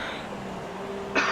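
A single throat-clearing cough from someone getting over a cold bursts out near the end, over the steady engine drone of a Formula 1 car in the Malaysia Grand Prix of F1 2017.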